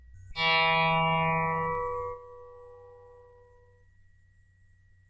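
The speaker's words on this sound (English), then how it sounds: "if you gently pluck the first guitar on string number 3" A single guitar's third string plucked gently once, ringing clearly with rich overtones and fading slowly into quiet.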